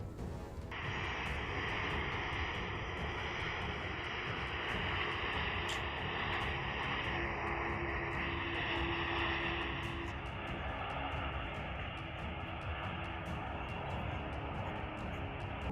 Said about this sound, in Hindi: अमेरिका का एक सैन्य परिवहन विमान भारतीय प्रवासियों के एक समूह को लेकर आ रहा है।